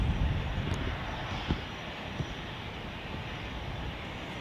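An airliner taking off from Zurich Airport, bound for Poland, makes a steady, broadband engine roar at a moderate distance, holding even throughout with a couple of brief knocks near the middle and no talking.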